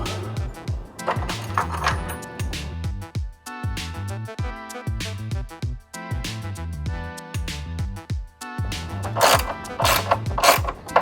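An awning mechanism is cranked down in repeated ratcheting turns, each stroke giving a clicking, creaking gear rattle with short pauses between, close and moderately loud.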